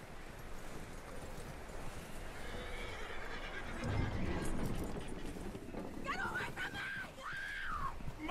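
A horse whinnies loudly near the end in Red Dead Redemption 2, its neigh rising and falling over a noisy, rushing background of hooves and commotion.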